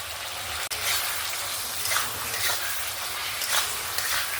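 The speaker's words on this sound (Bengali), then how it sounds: "ভেজে রাখা চাল কুমড়োর আলুটা দিয়ে ভালো করে একটু মিক্স করে নিচ্ছি" Fried ash gourd and potato are stirred into cooked spice paste in a pan, giving a steady sizzle with soft, repeated scraping strokes, close and moderately loud.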